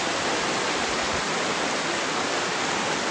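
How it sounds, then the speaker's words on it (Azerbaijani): Water of a branch of the Afurca waterfall near Afurca village in Quba flows steadily over stones, a loud, unbroken broadband rush with no gaps or other sounds. "Buradan da Afurca şəlaləsi axır."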